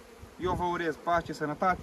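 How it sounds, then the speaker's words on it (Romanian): Honeybees buzz at a hive, a close, wavering drone in short bursts while someone speaks over it. "Vedeți cum stă o albină liniștită,"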